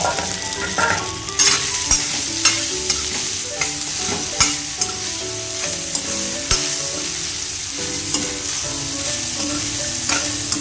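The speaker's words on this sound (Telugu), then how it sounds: "ఇలా వేయించుకున్న తర్వాత ఏదైతే కట్ చేసి పెట్టుకున్న ఇడ్లీ ఉందో దీంట్లో యాడ్ చేసుకోవాలి" Cut idli pieces being stir-fried in a pan with turmeric, a steady sizzle with repeated scraping and clinking stirring strokes, close and continuous with no talking.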